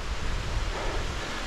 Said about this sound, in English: Plenty of water gushing down.